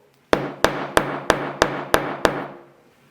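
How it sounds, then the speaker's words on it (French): A small hammer strikes a snap-button setting tool seven times at an even pace, each blow a sharp, close metallic knock with a short ring, used to fit a plastic or metal press stud through fabric or leather. "On prend un petit marteau."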